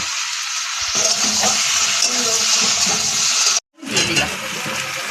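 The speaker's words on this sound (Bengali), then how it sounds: "এবার ইঁচড় দিয়ে সুন্দর করে কষিয়ে দেবো।" Green jackfruit with a little sugar sizzles loudly in hot oil in a pan. The sizzling is steady and close, with a brief break, and someone speaks a few words over it.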